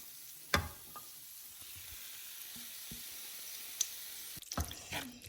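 Mussels rubbed with salt, chili and turmeric hit a hot pan for a pepper roast, giving a steady close hiss of frying with a sharp burst as they drop in and another flare of crackling near the end.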